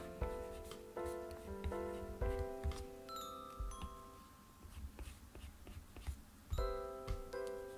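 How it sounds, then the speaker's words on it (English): A doorbell chimes a repeating ding-dong tone sequence in a home, with clear bright strikes that recur twice, fairly near and distinct. "someone rang the doorbell"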